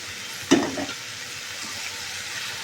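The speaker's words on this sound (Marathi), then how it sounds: "भाजीला चांगलं परतून घ्यायचं." Dill greens (shepu) being sautéed in a pan with oil, mustard seeds, onion, ground paste and tomato: a sudden sizzling burst as they hit the pan, then a low steady frying hiss.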